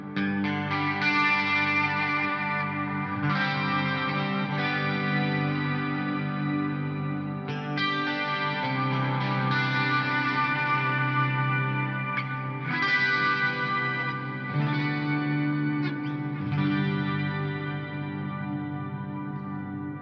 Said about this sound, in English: So we got just basic clean with delay and reverb.